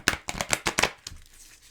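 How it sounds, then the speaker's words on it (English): A deck of Angel Oracle cards is shuffled by hand, a quick run of crisp riffling flicks in close succession that trails off into quiet. "I am going to shuffle and deal you an Angel Oracle card."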